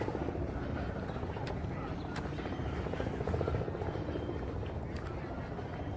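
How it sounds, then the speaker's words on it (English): A helicopter drones steadily overhead with a pulsing rotor chop, constant and fairly loud throughout, while voices talk beneath it, in Central Park, Manhattan. "Helicopters overhead."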